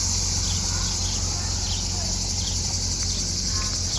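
Cicadas on a French wine estate with an old chateau and fig trees give off a continuous, high, buzzing drone. It holds at a steady, loud level through the whole stretch, with faint bird chirps here and there.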